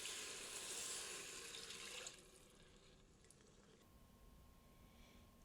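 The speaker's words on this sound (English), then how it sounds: "I'm going to add about 2 cups of water." About two cups of water pour into an Instant Pot over buttered rice, a close steady splashing stream for roughly two seconds before dropping to a faint trickle and quiet.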